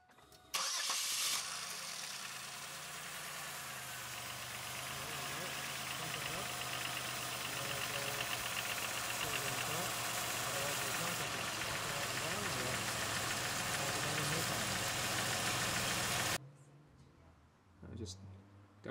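A minivan engine cranks and catches, then idles loudly and evenly for a long stretch before shutting off, with a brief voice afterward.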